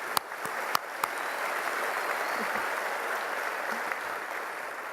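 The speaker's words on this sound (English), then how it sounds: "let's clap for that" Applause fills a university commencement hall, a steady wash of distant crowd clapping with a few sharper nearby claps at the start.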